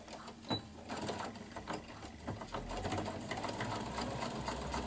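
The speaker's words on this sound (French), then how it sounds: "nous allons coudre à 1 millimètre tout autour" A sewing machine runs steadily, stitching a topstitch about one millimetre from the edge of a dress pocket, its rapid mechanical whirr and needle clatter close, even and fairly quiet, with a brief pause and restart near the start.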